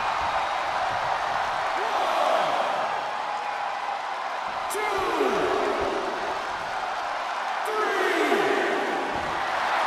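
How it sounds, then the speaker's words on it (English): A virtual crowd in a WWE 2K22 wrestling arena during an Extreme Rules match roars steadily, a loud sustained din with swelling cheers and whoops throughout. "The sound of this crowd is deafening, and he's asking for more."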